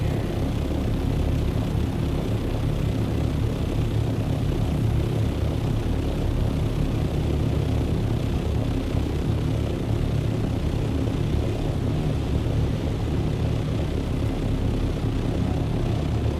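An engine and generator running in Dune Awakening, heard as a steady, loud mechanical drone with a deep throbbing hum that stays unchanged the whole time, with no talk over it.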